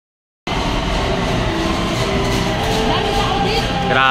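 MRT metro train running through a station: a steady loud rumble and rattle of wheels on track that starts abruptly and goes on, close by, with some crowd noise under it.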